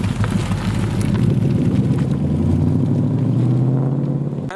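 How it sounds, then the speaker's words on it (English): A Ford Mustang with a 5-litre Coyote V8 fires up and settles into a loud, steady, deep rumbling idle that carries on without a break, close by, with no talk. "The 5 litre Coyote startup."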